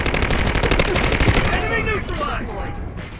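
Rapid bursts of automatic gunfire in the Delta Force video game, loud and dense for the first half, then fading into softer distant shots and ambient game sounds, with faint talk underneath.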